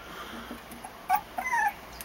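Young red pit bull puppies, about two weeks old, give a few faint high whimpers and yips in quick succession against a quiet background.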